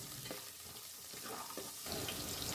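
Chopped garlic and onion fry quietly in oil for a tempering, giving a faint, steady sizzling hiss with soft spoon scrapes partway through and a slightly louder hiss near the end.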